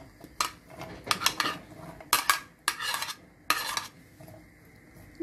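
Onion sautéing in oil for chicken liver, with sharp bursts of utensil clatter and scraping against the pan over a faint background sizzle, close and uneven.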